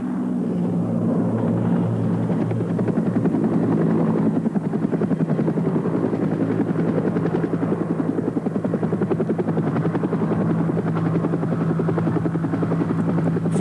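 Helicopter flying overhead in El Salvador, a steady low rotor thump with a continuous droning whine, close and even in level, with no voices.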